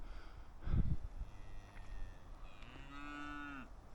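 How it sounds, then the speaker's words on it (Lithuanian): A cow lets out one long, clear moo in an open field, heard fairly close near the end, after a low thumping rustle and quiet outdoor noise during a pheasant hunt. "O, karvės nueidinėja, ačiū Dievui."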